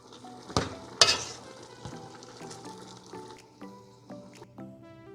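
Half-cooked vegetables for pancit canton stirred in a pan, with a couple of sharp utensil knocks against the pan and a soft sizzle and drip underneath, close and clear with no talk.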